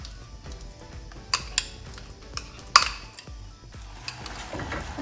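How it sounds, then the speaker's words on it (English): A utensil stirs fig and date paste with ghee in a pan, scraping and clinking against the metal in an irregular rhythm with a few sharper knocks and a faint sizzle underneath. "I'm just going to mix this together and let it cook in this oil till the moisture evaporates"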